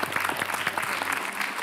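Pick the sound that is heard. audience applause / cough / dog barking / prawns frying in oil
audience applause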